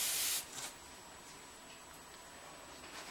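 An airbrush sprays paint in a short hissing burst at the start, then fades to a soft, steady airy hiss.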